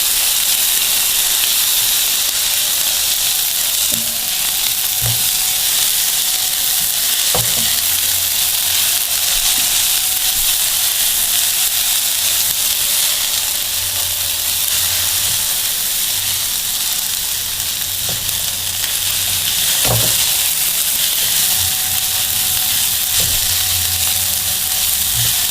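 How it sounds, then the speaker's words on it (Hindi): Ginger-garlic paste fries in a pan that has already softened the onions, giving a steady broadband sizzle and hiss with a few soft clinks of utensils, close and continuous, with no talking. "इसको भी इसके अंदर फ्राई करेंगे।"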